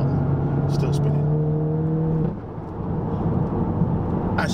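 An APR Stage 3 VW Golf GTI accelerates hard with wheelspin despite traction control being on: a loud, steady droning engine note holds and then cuts off abruptly, leaving rumbling road and wind noise.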